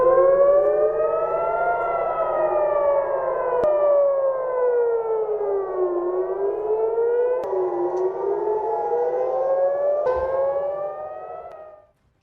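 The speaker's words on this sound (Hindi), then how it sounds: "ये तेल अवीव है जहां पर आप सायरन सुन लीजिए, ये खतरे का सायरन है।" A loud air raid siren in Tel Aviv wails continuously during an attack, its pitch rising and falling in long slow sweeps before cutting off at the end.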